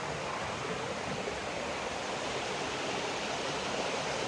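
Creek water flowing in a secluded hinterland gorge, a steady, soft broadband rush with no breaks and no voices.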